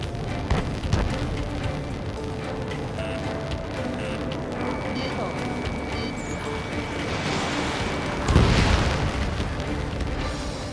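Explosions and missile fire in the combat flight game Ace Combat 7 sit within a dense, steady wash of game noise, with a louder booming burst standing out near the end.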